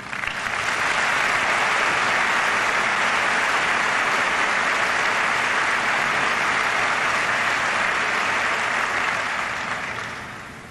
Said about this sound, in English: Please, a round of applause for them now.